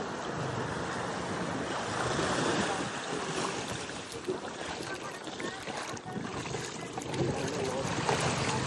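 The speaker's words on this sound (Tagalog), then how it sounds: "nagagalaw kasi bangka" A small outrigger boat rocks on open sea waves off Dingalan, Aurora, with a steady broad wash of water and wind rumbling against the microphone throughout.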